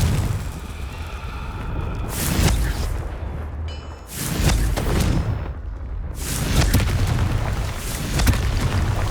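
A Confringo fire spell in Hogwarts Legacy sets off a run of loud, deep booming explosions, several heavy rumbling blasts in succession with crackling debris in between.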